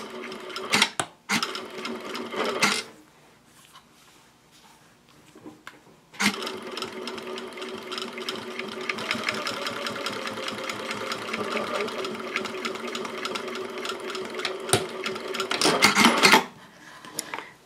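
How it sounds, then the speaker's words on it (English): A home sewing machine topstitches along the folded edge of a minimalist fabric ID wallet, running in a steady rapid rhythm after a few short bursts and a pause, close and fairly quiet. "Then you'll put it back underneath your presser foot, and we want to top stitch right along this folded edge right here."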